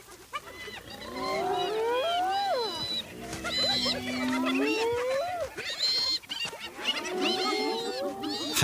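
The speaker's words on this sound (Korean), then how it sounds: "하이에나의 울음소리는 초원 저편까지 울려 퍼져" Spotted hyenas calling on the African savanna at night: a dense chorus of rising whoops, whines and giggling cries overlapping continuously, loud and close, with several animals vocalizing at once and no talk.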